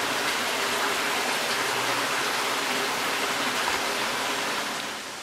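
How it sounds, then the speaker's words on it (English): Loud, steady rush of water pouring out of a coal mine opening at Kaymoor, New River Gorge, in a heavy, continuous stream, close by, fading slightly at the end. "This is the water that's pouring out of that mine there."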